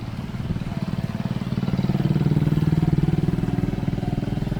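A motorcycle engine putters past runners during a 5.5 km Republic Day public road race, its rapid pulsing growing louder toward the middle and then easing off as it moves away.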